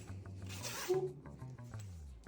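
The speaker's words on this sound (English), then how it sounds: "I just wanted something I could zip up and down" A short, quiet zipper rasp on a pullover hoodie runs once up and back, close by, with faint rustling around it.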